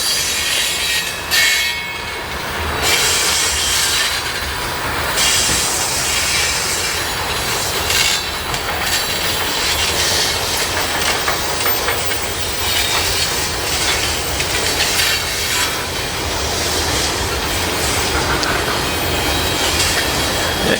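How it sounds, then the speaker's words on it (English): A BNSF freight train with boxcars rolls past at Aurora near Chicago, a loud, continuous rumble of wheels and cars with squealing and clicking over the rails throughout, heard up close with no talk. "Some freight boxcars there with the old BNSF logo on it."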